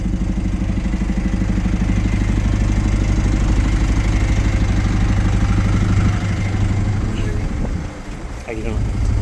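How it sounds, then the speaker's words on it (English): A bus engine idles steadily at close range, with a low rumble and clattering hum that runs unbroken and then dips briefly near the end. "This is the bus right here. We're on the bus."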